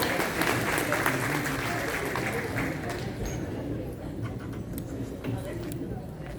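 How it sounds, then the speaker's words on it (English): Applause from the audience at an annual meeting of Pakistani-descent physicians in Chicago, dense and steady at first, then thinning as it fades, with a murmur of voices beneath. "Please give her a round of applause."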